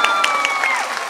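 An audience applauds at the opening ceremony of a folklore festival in Barcelos: a short burst of dense clapping with a few sharper claps, while a sustained whistle-like tone glides downward over it.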